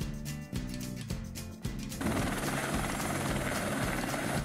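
A helicopter sound effect: rhythmic rotor thumps repeating at a steady pace, shifting after two seconds into a louder, denser engine roar with beating blades, no talk.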